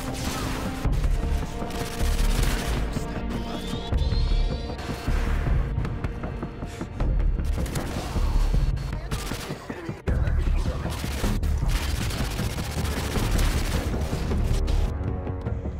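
Dense, continuous automatic gunfire from a submachine gun in Call of Duty: Modern Warfare 2 (2009), loud and relentless, with rapid bursts, booming impacts and clattering debris layered throughout, and no pause between volleys.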